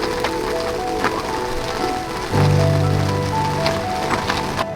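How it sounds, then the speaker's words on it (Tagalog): Rain dripping and pattering on an awning at a mountain campsite, a steady wash of droplets with a low hum joining partway through. "pinapakinggan yung patak ng ulan sa mismong owning"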